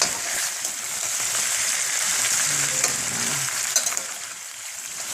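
Food browns in a hot pan with a steady, dense sizzle and crackle, a few louder pops and scrapes standing out, close and continuous with no talk.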